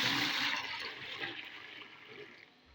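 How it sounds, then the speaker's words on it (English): Water pours and splashes steadily into a bath mixture of water and salt, a close, continuous rushing stream that fades and thins out toward the end. "I'm going to add extra water to it"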